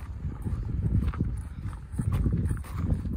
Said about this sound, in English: Oh, wild horse.